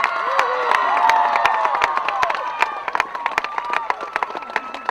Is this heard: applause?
yes